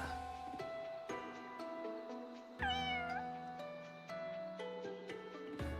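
A cat in the video game Fire Emblem Engage gives one clear wavering meow over steady, continuous background music.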